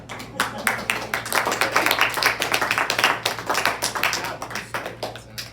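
Audience clapping at a school senior presentation, a steady patter of many hands held at a fairly even level for several seconds, with a low hum underneath.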